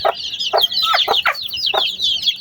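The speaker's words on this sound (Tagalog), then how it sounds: "Ito ang ating mga sisiw." Young Rhode Island and Texas chickens in a backyard shelter cluck in short, close bursts, several calls overlapping over a steady chirping background.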